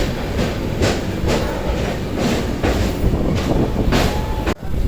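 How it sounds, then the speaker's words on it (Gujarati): A long passenger train rolls past close by with a loud, steady clickety-clack, its wheel beats recurring in even pulses about twice a second over a continuous rumbling roar. "કવડી લાંબી ટ્રેન હે."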